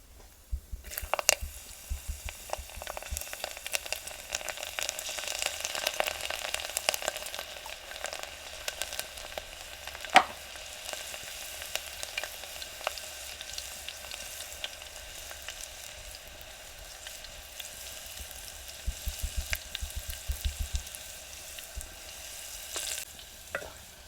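Garlic pieces sizzle in hot oil in a home kitchen pan while methi bhaji is being made, giving a steady, fairly quiet crackle with a few sharper clicks and stirs scattered throughout.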